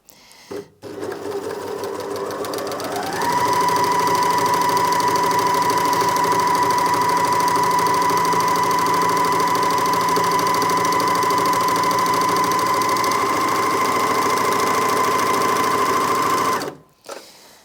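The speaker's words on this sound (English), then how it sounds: "So that was going at top speed there, which for this machine is 1200 stitches per minute. And it's not too noisy actually for an overlocker either." A Janome MyLock 454D overlocker runs at top speed, about 1200 stitches per minute: a quick start then a loud, steady mechanical whir with a fine rapid rattle that holds for over ten seconds before stopping abruptly.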